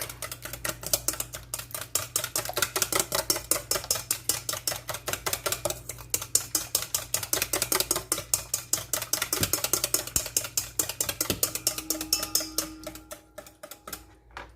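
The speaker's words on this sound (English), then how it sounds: "Whisk." Ingredients whisked in a bowl for cheesy casserole bread, a fast, steady rhythm of rapid ticking strokes against the bowl, close and continuous, easing off and stopping near the end, with no voices.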